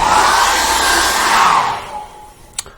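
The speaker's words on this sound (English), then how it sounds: "time to dry that with a hairdryer once more." A hair dryer blowing on wet acrylic paint, a steady loud whooshing hum that winds down and cuts off, followed by a single small click.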